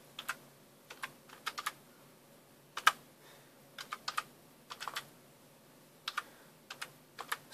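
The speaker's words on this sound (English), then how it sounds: "My keyboard, and I will just type in" Keystrokes on a computer keyboard at a Windows login screen, in short irregular bursts of light clicks with pauses between them, moderately close and quiet, with no talking.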